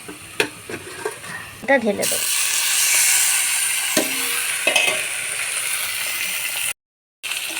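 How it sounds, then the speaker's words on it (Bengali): Marinated chicken poured onto fried onions in a hot pan, a burst of loud bright sizzling that swells and settles into steady frying, with clinks and scraping of a spoon; brief clatter before and a short gap near the end. "এবার চিকেনটা যে ম্যারিনেট করে রেখেছি সেটা ঢেলে দেবো।"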